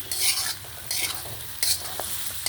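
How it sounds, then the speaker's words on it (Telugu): Lentils fry in a pan, their close, steady sizzle broken by three loud bursts of scraping as a utensil stirs and scrapes them across the pan, with a few light taps between. "పప్పు కొంచెం బాగా వేగింది."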